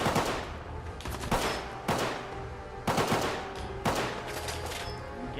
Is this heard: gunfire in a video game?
yes